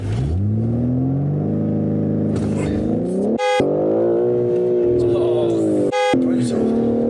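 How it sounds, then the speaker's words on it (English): A BMW M3 G80 engine revs up hard during a launch attempt, climbing twice to the rev limiter with sharp stuttering cuts. The loud, close whine and roar rises in pitch between bounces. "it literally just went to the top of first gear and then bounced off the limiter"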